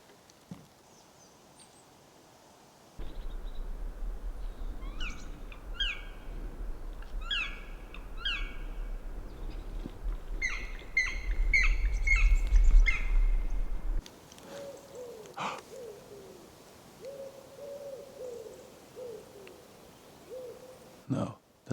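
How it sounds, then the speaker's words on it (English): A pigeon calls in a Swedish forest, soft repeated cooing notes over quiet woodland ambience, fairly faint and spaced in a slow rhythm, with some rustling and other bird sounds. "No, that's a pigeon."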